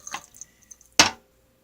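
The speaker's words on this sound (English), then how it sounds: "the water's draining out here." Water drips and drains from a homemade Ormus collector: a few light, close drips early, then one sharper splash of draining water near the end, followed by quiet.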